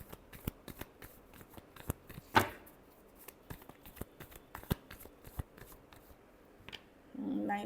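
Tarot cards being shuffled by hand: a series of soft, sharp riffling snaps and taps spaced irregularly over several seconds, close and quiet, ending with a brief rustle of handling.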